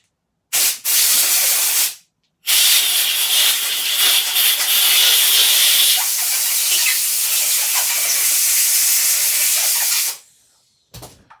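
A Suffolk Punch engine part gets an air blowout: a short loud blast, a brief pause, then one long, steady, roaring hiss of air that cuts off abruptly.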